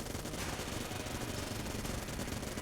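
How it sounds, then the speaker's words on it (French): A Vulcan cannon fires in the video game Enter the Gungeon as a dense, continuous roar of rapid gunfire that stays loud and unbroken throughout. "Bon, la canon Vulcain oblige"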